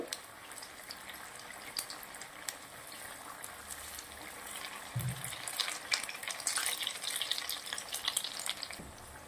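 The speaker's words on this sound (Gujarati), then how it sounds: "ત્રણ થી 4 મિનિટ સુધી આપણે તેલના અંદર આવી રીતના તરવાનું છે" Okra Chinese pakoras deep frying in hot oil, a soft continuous bubbling sizzle with scattered crackles that grows a little busier partway through, fairly quiet and without speech.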